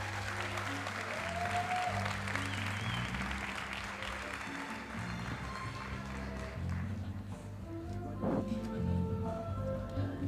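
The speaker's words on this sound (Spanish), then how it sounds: "Un aplauso, por favor, a Gregorio Moreno." An audience applauds the mathematician Gregorio Moreno at a live talk evening, giving a sustained wash of clapping for about ten seconds, blended with tonal, music-like sounds throughout.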